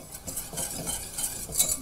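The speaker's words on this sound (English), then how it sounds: "cook them together for about 2 minutes while I'm whisking it" Butter and flour being whisked together in a pan to make a roux for béchamel sauce, with soft, steady scraping and stirring strokes that repeat rhythmically at close range, with no talking.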